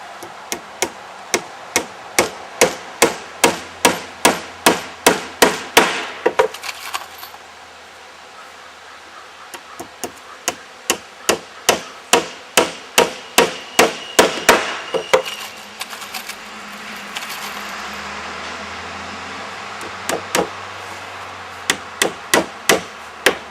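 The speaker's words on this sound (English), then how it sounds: "nail those 14-inch 2x3 cleats on the bottom of that" A hammer drives nails through 14-inch 2x3 wooden cleats into the underside of a tabletop, with loud, sharp, evenly paced blows coming in bursts separated by short pauses.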